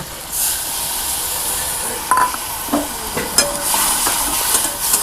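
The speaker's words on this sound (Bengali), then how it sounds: "মাছের ঝাল বসিয়ে দিলাম।" Fish curry (machher jhal) cooking in a pan with ground mustard, dried chilli and turmeric, giving a steady soft hiss and sizzle with a few sharp clinks and crackles, no voices.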